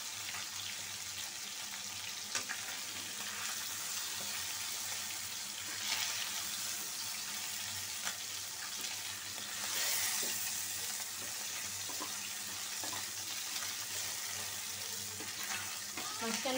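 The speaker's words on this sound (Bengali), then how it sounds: "মাছটা ভাজা হোক।" Pieces of catla fish fry in hot oil in a wok, giving a steady, fairly soft sizzle throughout with a few brief clinks, heard alone without speech.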